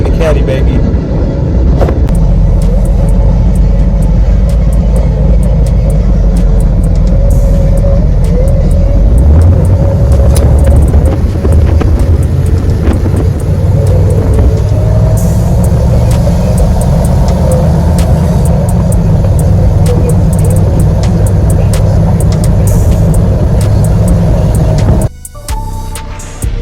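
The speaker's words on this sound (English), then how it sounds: "first ride in the Caddy, baby." A 1985 Cadillac Eldorado on the road, a steady low engine drone and tyre rumble running loud and close throughout, the pitch rising a little around the middle before an abrupt cut near the end.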